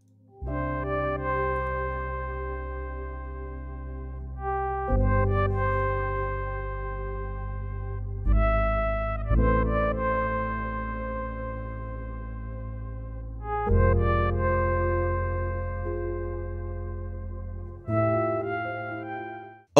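A Minecraft soundtrack piece plays on its own: sustained chords in slow, gentle phrases with soft bass swells, even and moderately loud with no voices.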